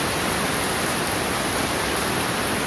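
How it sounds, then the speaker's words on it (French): Heavy rain pours down steadily onto an umbrella, a dense, even hiss of water with no pauses, loud and close throughout. "Tellement il pleut. La pluie est vraiment forte."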